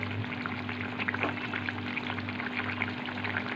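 Fish curry with taro simmers in a covered pot, bubbling and faintly sizzling in a continuous soft patter at close range, with no voices.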